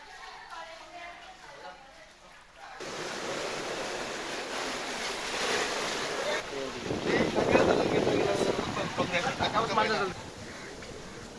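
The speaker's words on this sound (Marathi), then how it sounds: "धूप प्रतिबंधक बंधारा कमी उंचीचा असल्यानं त्यावरून लाटा उसळत आहेत" Sea waves surge over a low coastal protection wall and flood into a village, a rising wash and rush of water with wind buffeting the microphone, swelling louder midway while a voice speaks over it.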